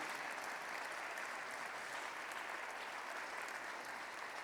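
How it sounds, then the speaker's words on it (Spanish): Soft, distant applause from a congregation welcoming a speaker at an evening gospel lecture, a uniform wash of many hands clapping that holds steady for several seconds with no talk over it. "le voy a pedir que lo recibamos con un aplauso"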